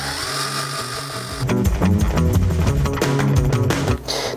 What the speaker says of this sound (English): we're gonna take these and we're gonna install these screws in